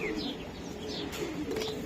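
Racing Giribaz pigeons coo softly and steadily in a low, murmuring drone, faint and close with no voices over them.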